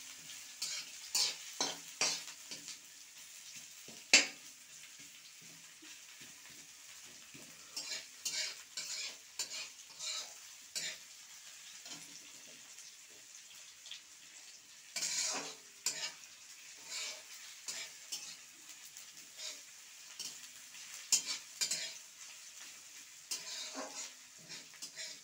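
Garlic and onion fry in oil in a pan, giving a quiet, steady sizzle under repeated scraping and clinks of a spoon stirring against the pan, some strokes close and sharp, with no talk.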